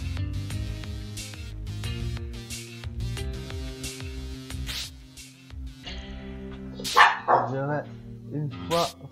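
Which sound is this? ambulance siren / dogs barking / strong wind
dogs barking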